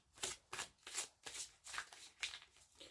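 Oracle cards shuffled by hand in a quiet room, a close run of about eight crisp riffling swishes in a steady rhythm, alone with no talk.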